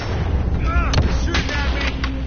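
Gunfire in the video game Call of Duty, a few sharp game gunshots at a construction site standing out over a busy layer of in-game noise and effects, with no talk.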